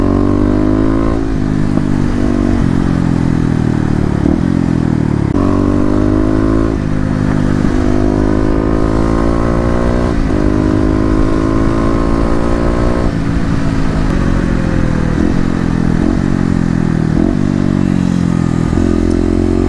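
A Kawasaki KLX250 motorcycle engine roars close and loud throughout, rising through repeated acceleration sweeps with rapid downshifts between them, the pitch climbing and dropping in a continuous run.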